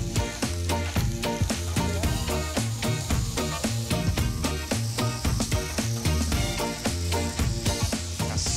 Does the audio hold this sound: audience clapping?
no